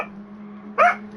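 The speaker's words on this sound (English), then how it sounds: "He's just being a dog." A dog gives a single short bark or yelp, fairly close and loud, over a steady low hum in the background.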